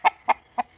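Backyard chickens give three short, evenly spaced clucks, close and clear against a quiet background.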